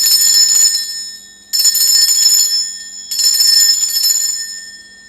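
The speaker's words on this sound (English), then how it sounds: "I'm going to be ringing this bell to cleanse the space around us" A bell rung to cleanse a space gives three loud, bright strikes about one and a half seconds apart, each one ringing out with a shimmering sustain before the next, with no voices.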